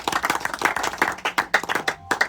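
A small group claps hands in a short burst of brisk, uneven applause, close by, fading out after about two seconds.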